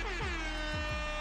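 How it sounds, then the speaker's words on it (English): A classic air horn sound effect blares continuously, loud and brassy, with a few low thumping pulses underneath. "OG Airhorn"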